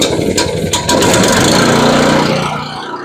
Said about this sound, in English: you'll get the motor going, you'll ease the clutching or the belt into the drum, let it kind of get rolling, and then fully engage it